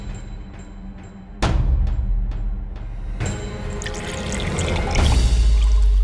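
Water is poured in a household scene: a few light clicks and taps, then a sustained, gently rising splashing pour that grows fuller toward the end, with no talking.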